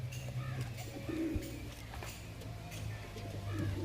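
Pigeons coo softly in a high-flying pigeon loft, low repeated murmurs rising and falling over a steady hum of background noise, with a few brief chirps scattered through.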